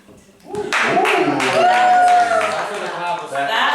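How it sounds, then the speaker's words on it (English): A slow clap of sharp, evenly spaced hand claps during the last round of a Greenhouse Challenge game show, heard under talking voices and a sustained tone. "There's the slow clap."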